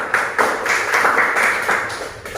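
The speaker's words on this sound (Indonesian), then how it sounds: "beri aplaus dulu buat semuanya dulu" A class of students in a classroom gives a short round of applause, a brief burst of dense clapping heard up close.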